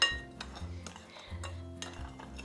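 A spoon stirs hot chocolate mix with salt in a pan, giving soft repeated scraping and light clinks against the metal in a steady rhythm, close up with no talking.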